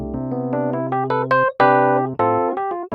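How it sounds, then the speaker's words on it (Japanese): Rhodes-style electric piano voice on a Yamaha CP88/CP73 stage piano, playing warm sustained chords and bell-like upper notes in a loose phrase, close and clear with no voices. "当然ローズの音ですね。"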